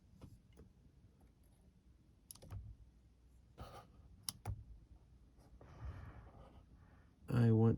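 Pruning shears snip dieback and small twigs from a Chinese elm bonsai, giving a few sharp, close clicks spread apart, with a louder rustle near the end.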